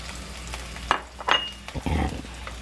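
Garlic sizzles in a slick, hot frying pan with short crackling bursts and a louder spurt near the end, close by and heard alone without talk.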